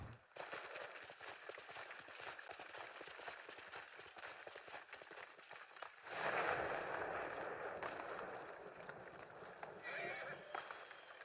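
Galloping horse hooves in Ghost of Tsushima clatter rapidly at a steady pace, joined by a loud whinny partway through, with a faint voice in the background.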